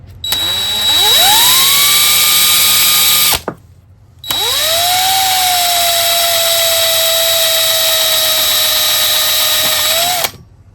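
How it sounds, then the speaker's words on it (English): A power drill bores a pilot hole into soft jelly tongue timber, running in two loud sustained bursts with a brief pause between, its whine rising as the motor spins up and holding steady while it cuts. "I like to put a little pilot hole. Just helps with the drilling, especially in the softer jelly tongue timber."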